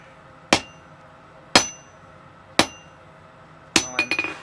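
A hammer strikes hot steel on an anvil while a taper is forged for blacksmith tongs: four sharp, ringing blows spaced about a second apart, the last followed by quick light rebounding taps.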